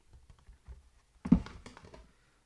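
Cardboard box of a Gundam 00 Diver model kit pops open with a single soft thump, followed by light rustling and tapping of the lid and packaging, close and quiet, with faint handling noises before it.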